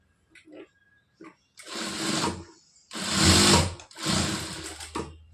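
A domestic sewing machine stitches a blouse shoulder seam, running in three loud bursts of rapid needle chatter, each lasting about a second, with short quiet gaps and a few light handling clicks between.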